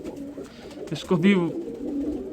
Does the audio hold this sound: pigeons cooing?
yes